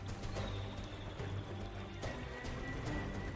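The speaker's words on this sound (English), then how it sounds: "A spray of water followed by a loud splash." Water sloshing and splashing with a steady churning wash as a crocodile attacks an antelope, a sharper splash bursting in near the two-second mark over continuous background noise.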